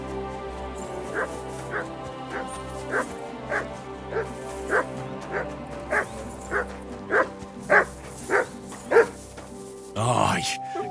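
A dog in the medieval video game Kingdom Come: Deliverance 2 gives a steady run of about a dozen evenly spaced barks and yips, clear and close, over game music, ending in a louder burst.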